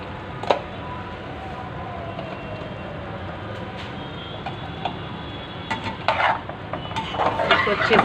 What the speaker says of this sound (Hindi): इसको अच्छे से मिक्स करेंगे।